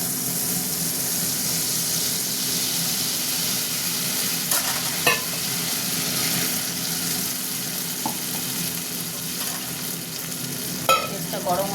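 Spice paste with dried red chilli sizzling in a pan for shahi paneer, a continuous fry with faint stirring clicks and scrapes throughout, no voices.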